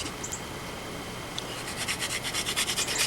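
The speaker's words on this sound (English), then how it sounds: "But you notice how she's starting off gently, running her hand down the drill." Soft, steady rubbing and rasping of a wooden hand drill spun against a fireboard for friction fire-lighting, quiet and continuous, growing slightly more rhythmic and forceful toward the end.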